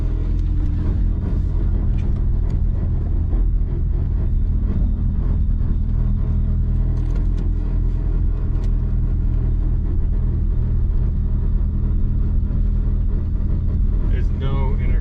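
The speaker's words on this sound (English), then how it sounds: "This is gonna be the first drive with a turbo" A turbocharged Honda Civic with no intercooler, its turbo venting straight out, drives on its first run without boost, a constant loud low engine rumble heard from inside the car.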